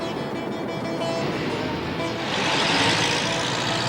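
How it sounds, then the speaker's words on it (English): Dense Cairo city traffic roars as a steady wash of engines and vehicle noise, swelling slightly louder midway, with indistinct voices mixed into the constant urban din. "Cairo traffic"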